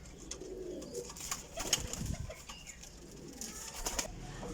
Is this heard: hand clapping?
no